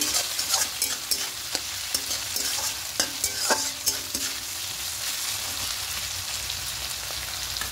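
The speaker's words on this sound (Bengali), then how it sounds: "পেঁয়াজটা খুব তাড়াতাড়ি নরম হয়ে ভাজা হয়ে যাবে" Sliced onions frying in oil with salt in a pan are stirred steadily, with dense close sizzling and repeated scraping strokes of the spoon across the pan throughout.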